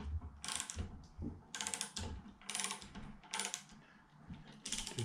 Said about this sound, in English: But lowering it down gently is quite easy with the lever action